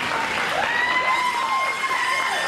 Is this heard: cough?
no